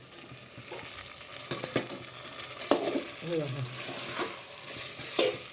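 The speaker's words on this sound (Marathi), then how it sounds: "असं धरून पातेला हलवून घेतलेला आहे बघा बघा कसं गदगदा मसाला हलवून घेतलेला आहे" A pot of black masala brinjal curry is shaken to mix, giving irregular scraping, clattering and sizzling with a few sharp knocks over several seconds, close and moderately loud.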